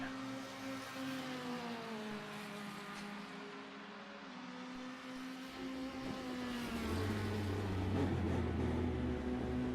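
Race car engine in an F3 racing video game at the Red Bull Ring, droning steadily then rising in pitch and loudness as it accelerates out of the pit exit, continuous throughout.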